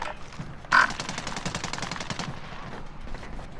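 Automatic gunfire from an AMAX rifle and other weapons during a Warzone (Modern Warfare) battle royale match, a loud burst up front followed by a sustained rattle of rapid shots that fades out.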